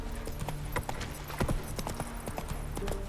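Horse hooves clip-clop in a quick, steady rhythm as a mount gallops across the ground in The Witcher 3, with occasional snorts, moderately loud and close, with no talking.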